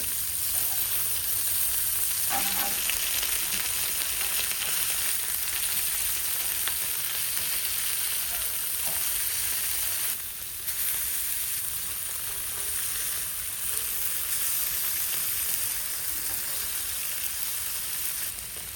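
Beef kofta kebabs frying in a non-stick frying pan after being turned, an even, dense sizzle that holds steady for the whole stretch with one brief dip and a couple of faint clicks, close and without talking.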